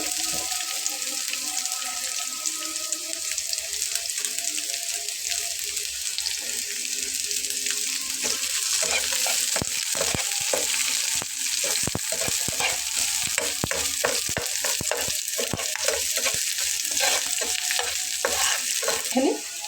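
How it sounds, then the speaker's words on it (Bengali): Onion frying in a small amount of oil hisses and sizzles steadily while a utensil stirs it with repeated scraping clicks, close and fairly loud, with no talk. "এবার আমি পেঁয়াজটাকে এভাবে দিয়ে নেব।"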